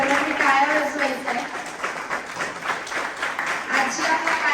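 An audience applauds at a college event honouring chief guests, a dense, continuous clatter of many hands from a crowd, fairly loud, with a voice talking over it.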